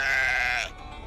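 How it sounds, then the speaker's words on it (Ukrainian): A sheep bleats in a kids' farm animal app, one loud, steady, wavering baa lasting just over half a second before cutting off to quiet background. "Sheep."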